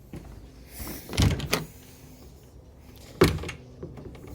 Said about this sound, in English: Nice old teak doors.